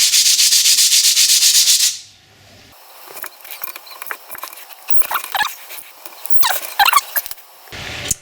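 Car brake discs are rubbed and scrubbed clean during a brake job, with a loud steady abrasive burst at first, then a pause and intermittent scraping and handling noises.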